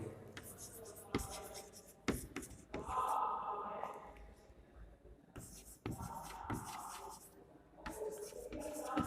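A pen writes on paper in short scratching strokes during a maths lesson, close and fairly quiet, with someone speaking softly in between.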